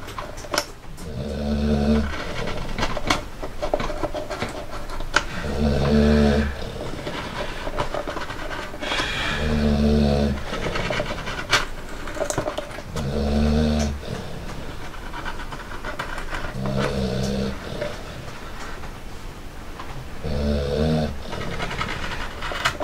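A dog snores in deep, regular, rasping breaths, about one every four seconds, close and fairly loud, with faint background noise and no talking.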